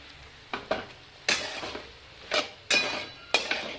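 Ash gourd fry mixed with crushed kasuri methi is stirred in a pan, giving a series of sharp spatula scrapes and knocks against the metal, about seven strokes spaced irregularly over a faint sizzle.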